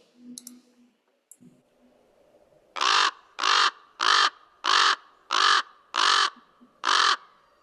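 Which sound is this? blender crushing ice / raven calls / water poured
raven calls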